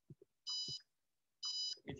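A smart home water leak alarm sounds two shrill electronic beeps about a second apart, each a short steady high tone, with faint soft clicks and thumps between them.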